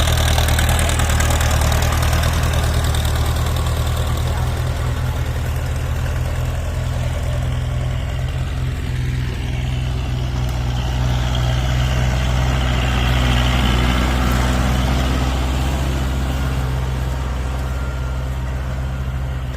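A tractor's heavy diesel engine idles steadily up close, a constant low rumble with no breaks or revving for the whole stretch.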